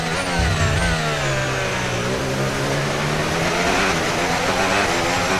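Formula 1 car in the F1 racing game braking and then accelerating out of a corner, a loud continuous high engine whine that dips and climbs in pitch, with no talk over it.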